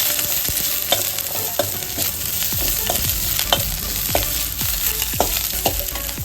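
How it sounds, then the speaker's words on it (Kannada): Green chilies and coriander leaves sauté with cumin and garlic in a hot pan for palak paneer rice, a loud continuous sizzle punctuated by regular scraping stirs of a spatula, with no talking. "ಆಮೇಲೆ ಮೆಣಸಿನ್ಕಾಯಿ, ಕೊತ್ತಂಬರಿ ಸೊಪ್ಪು ಹಾಕೊಳ್ಳಿ."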